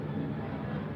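A plane passing overhead gives a steady, broad roar that holds at an even loudness for about a second, with no voices.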